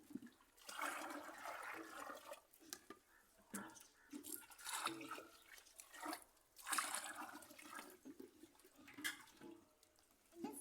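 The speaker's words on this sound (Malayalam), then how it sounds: "അപ്പോൾ നമുക്ക് വെള്ളം ഒഴിച്ചു കൊടുക്കാം." Water poured from a hose or container into a small fish pond built inside an old tyre, a running, splashing flow that swells and fades in bursts over about ten seconds, close and fairly quiet.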